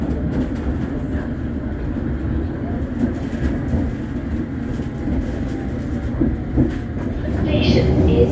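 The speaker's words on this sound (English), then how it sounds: "London Underground. Wow, it's so big. Look how long it is." A London Underground train rumbles steadily inside a station, a dense continuous low roar with clattering wheels and rail noise throughout, growing slightly louder toward the end.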